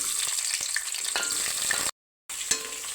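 Onion frying in hot oil with whole spices such as cinnamon, bay leaf, cloves, pepper and cardamom for mutton pulao, a continuous bright sizzle with a few stirring knocks, cut by a short silent gap.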